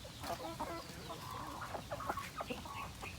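Free-range native chickens cluck in short, scattered bursts, soft and somewhat distant, with several birds calling over one another.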